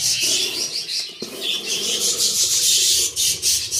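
Budgerigars chatter and chirp in an aviary, including a male tending chicks, a dense, continuous stream of bright warbling calls, close and fairly loud.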